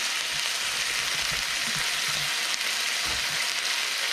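Steaks sear in a hot pan with a constant, close crackling sizzle and faint low pops throughout.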